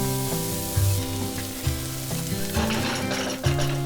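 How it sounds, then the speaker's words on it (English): Chopped onions and curry leaves fry in a pan with a steady, loud sizzle, close by, with brief stirring scrapes throughout. "Then add 2 chopped onion and fry it until the onion is nice and soft."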